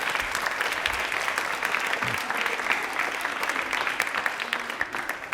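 A crowd at a public quiz event gives loud, continuous clapping, a thick even wash of hand claps that holds steady and fades a little at the very end, with no speech over it.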